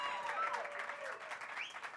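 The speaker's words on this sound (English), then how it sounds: "we can applaud for that" Audience applause at a Walk of Fame ceremony for Sheila E., a steady outdoor crowd clapping throughout under faint tonal sounds, moderately loud and continuous.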